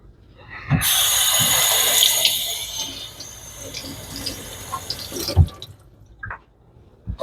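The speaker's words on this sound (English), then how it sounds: "I soak those in a little bit of water to loosen them up" Water runs from a kitchen tap in a steady, bright splash for several seconds while bread slices are soaked for meatloaf, then cuts off, leaving a few drips and small clatters.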